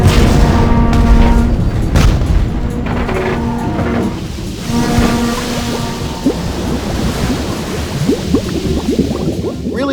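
A boss exploding in a video game, a loud rumbling blast with crackling debris and a wash of noise that gradually settles into a bubbling, surging roar.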